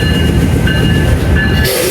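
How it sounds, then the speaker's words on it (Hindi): The Awam Express 14 Down rolls into Attock City Junction, a loud, continuous rumble of rail cars and wheels with faint squealing tones, close by and unbroken. "अवाम एक्सप्रेस 14 डाउन पधार रही है जी अटक सिटी जंक्शन पे"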